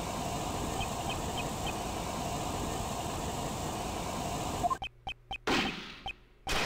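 Sharp gunshot in a video game, a bang with a metallic clang, breaking abruptly through a steady hiss of background noise as a few loud close impulses near the end.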